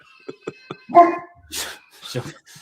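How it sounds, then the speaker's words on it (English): Small dog barking and yipping indoors in a short burst of several sharp barks, close and fairly loud, mixed with a person talking. "you hear my dog?"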